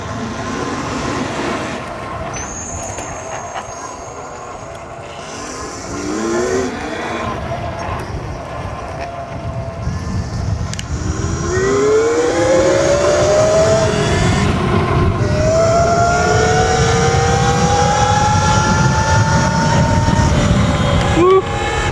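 An Xpro Drax X Pro 72V electric dirt bike rides with rising and falling motor whine sweeping up in pitch, loud and close, over wind rush and rough ground noise.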